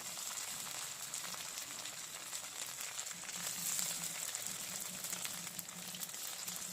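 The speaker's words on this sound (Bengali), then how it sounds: "মাংসগুলোকে এবার ভেজে নেবো সব একটু লাল লাল করে" Chicken pieces fry steadily in a pan for chilli chicken, a soft continuous sizzle and crackle with a low hum running beneath.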